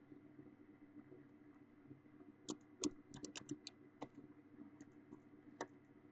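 Password keystrokes on a computer keyboard: a quiet run of light, irregular clicks and taps over a faint steady background hum, heard near.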